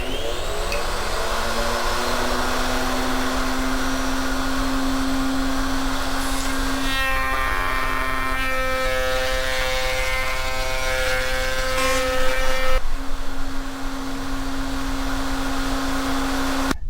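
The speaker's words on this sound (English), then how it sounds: "I install a 45-degree chamfer bit into the router, and I'll chamfer both edges of the back side of the crown molding" A router fitted with a 45-degree chamfer bit on an MLCS horizontal router table chamfers the back edges of crown molding, giving a loud, steady high whine that runs throughout and briefly shifts tone as the cut changes.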